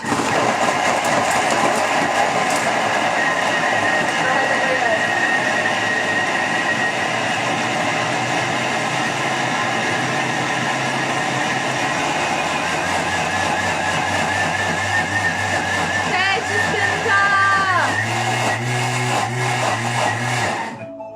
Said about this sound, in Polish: i teraz miksujemy to 20 e, sekund, obroty 9